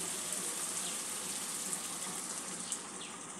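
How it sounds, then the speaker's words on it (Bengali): Water pours steadily into egg curry in a pan, making a continuous, even rushing splash that holds at the same level from start to finish, with no voices. "এবার পরিমাণ মতন জল দিয়ে দেব।"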